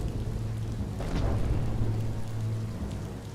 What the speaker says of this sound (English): Don't get swept away in the rain.